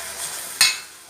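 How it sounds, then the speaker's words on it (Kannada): Greens are stirred into a cooking pan over a soft background sizzle, with one brief, close scrape of a utensil against the pan. "ಸೋಪ್ ಮಿಕ್ಸ್ ಮಾಡ್ತದೆ."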